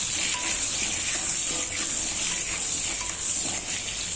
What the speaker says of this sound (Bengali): লাল লাল করে ভাজা হয়ে গেছে আলু